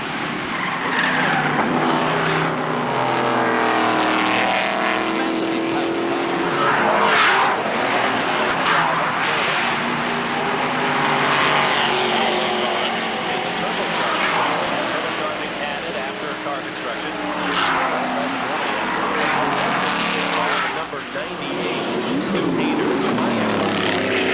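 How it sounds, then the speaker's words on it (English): Corvette race cars, including a C4 ZR-1, roar through a battle for the lead at Lime Rock in an IMSA Supercar Series race. The engines snarl loudly and continuously, with a commentator talking over them. "Those Corvettes starting to sling it around a little bit."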